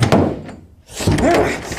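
A door slamming shut in a comedy sketch parody, a heavy thunk amid scuffling and shouting, loud and close with people yelling around it.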